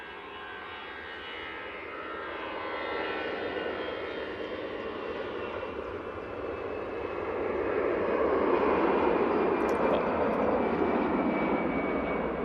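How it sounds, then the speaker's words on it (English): An Airbus A320 departs Manchester Airport bound for Geneva, its jet rumble building gradually from moderate to louder as the climb-out noise swells toward the end, steady and continuous. "This is off to Geneva. Pretty short flight for this A320."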